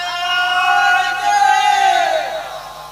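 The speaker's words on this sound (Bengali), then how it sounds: "হচ্ছে একজন তাকবীর দাও তো দেখি" A large crowd at an outdoor Islamic religious sermon roars a sustained, loud takbir chant in unison, voices rising and swelling together across the whole stretch.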